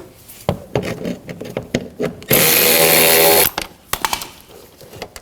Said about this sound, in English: take a 7mm socket, take these bolts out